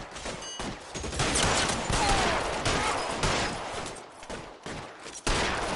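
Sustained covering gunfire in a shooter video game, loud overlapping volleys and rapid shots filling the stretch, with occasional gaps and a sharp crack near the end.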